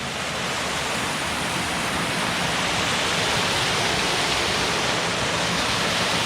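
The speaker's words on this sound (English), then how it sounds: "It's like waterfall number 10 here." A steady, loud roar of falling water, a constant broadband rush without pauses.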